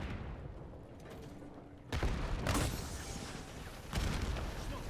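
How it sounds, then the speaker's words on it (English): Grenade blasts in an online multiplayer shooter: a low rumbling battlefield bed breaks into a loud booming burst near the two-second mark, with further thudding explosions following and another surge near the end. "there are so many grenades coming at me"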